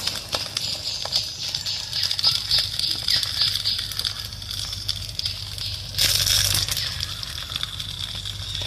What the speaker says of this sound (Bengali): এখন এতে জলটা দিয়ে দিতে হবে।